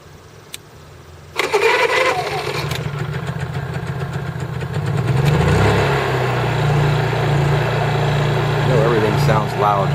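A Honda EU3000is inverter generator with a GX200 engine starts abruptly after a quiet moment and settles into a steady close running hum that builds slightly in level.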